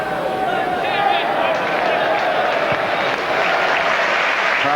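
A football stadium crowd at a West Ham United versus Walsall League Cup tie applauds steadily for a West Ham player, a dense, continuous wash of clapping that fills the stadium, with a commentator's voice faintly underneath.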